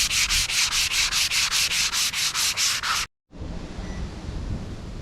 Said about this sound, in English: So all that needs to get sanded down to where you can't feel it.